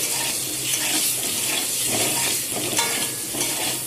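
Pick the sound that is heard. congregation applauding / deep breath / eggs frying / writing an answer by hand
eggs frying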